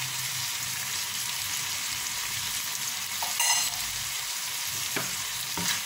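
A Chinese noodle dish sizzles and fries steadily in a pan while being stirred, with a constant hiss and a few light scraping clinks from the utensil.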